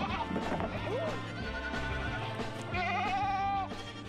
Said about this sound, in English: It's definitely a boy goat.